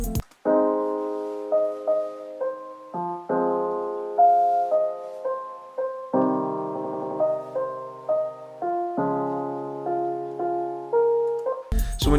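Chopped-up second piano from the Gentleman piano plugin plays a slow sequence of sustained chords, each chunk cut sharply into the next, bright and close with no voices.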